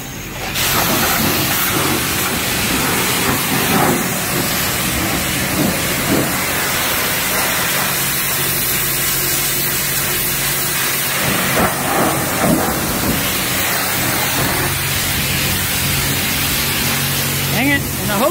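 A pressure washer sprays down the engine of a field-find 1955 Chevy. A loud, continuous hiss of water jetting against metal runs close up for the whole stretch, with small shifts as the spray moves across the engine.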